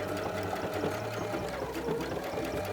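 Sewing machine running fast and steady as it backstitches along an existing dress seam, a continuous close mechanical whir with even needle rhythm, no voices.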